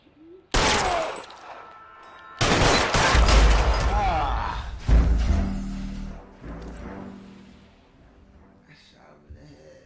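Gunfire shootout in L.A. Noire, a 1940s Los Angeles crime video game: loud bursts of rapid shots break out suddenly, then ring on with heavy low booms and fade, with voices speaking over parts of it.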